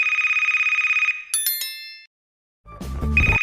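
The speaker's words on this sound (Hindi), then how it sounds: "अरे मालिक का फोन।" A phone ringtone rings in a steady electronic pulse, breaks off with a few chiming tones, falls silent, and resumes after a burst of bassy music, loud and close with no talk.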